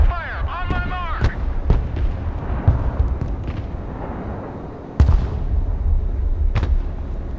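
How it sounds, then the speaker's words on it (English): Rocket artillery fire in the video game Broken Arrow: several sharp, booming launches, with a strong one near five seconds, over a rumbling battlefield backdrop, while a voice speaks briefly at the start. "Rocket artillery at your disposal, sir. Direct fire, on my mark."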